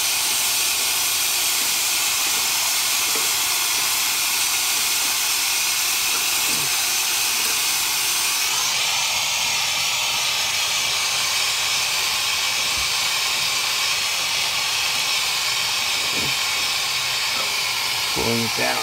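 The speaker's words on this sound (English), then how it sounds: "When I go in all the way, this steam will stop." Steady, loud steam hiss from a steam radiator's air vent, continuous throughout, its broadband rush shifting in tone partway through, with a few faint knocks underneath.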